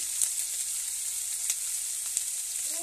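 Ground spices with salt, chilli powder and turmeric frying in a pan as the base for a Bengali banspata fish kalia curry, giving a steady close hiss of sizzling with faint scraping stirs and no talk.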